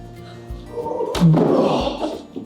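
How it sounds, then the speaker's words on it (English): A heavy interior door in a house built around 1969 swings shut with a solid thunk and brief slam, followed by a short rattle, close by in a quiet room. "That's a hard door."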